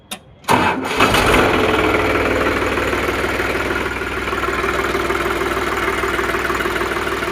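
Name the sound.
tractor diesel engine idling after battery self-start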